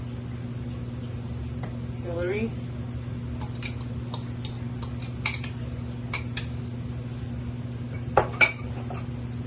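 Chickpea salad with chopped celery and scallions being stirred in a bowl: soft scraping and intermittent clinks of a utensil against the dish, with a few sharper taps near the end over a low background hum.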